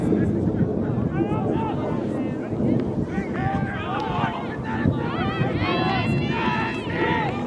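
Spectators at an amateur rugby match, a 2nd XV game, raise a loud, sustained crowd reaction with overlapping cheers and shouts, heard over wind noise.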